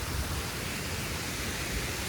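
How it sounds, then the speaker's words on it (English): Water fountain outside the Detroit Institute of Arts, a steady, dense rushing and splashing wash of falling water that stays constant throughout with no voices. "In case y'all wondering what that noise is, it's the water fountain here."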